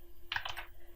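A few quick keystrokes clack on a computer keyboard, close and clear, in a short burst with no voice.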